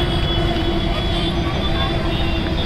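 A metro train passing close by, a loud continuous rumble with steady wheel whine and tonal hum, unbroken for the whole stretch.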